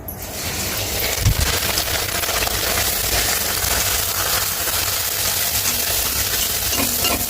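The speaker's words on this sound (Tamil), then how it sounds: "எண்ணெய் நல்லா சூடாகிடுச்சு. இப்போ பூரி நம்ம போட்டு எடுத்துடலாம்." Puri dough frying in very hot oil in a home kitchen, a steady dense sizzle and gush running throughout at close range with no talking.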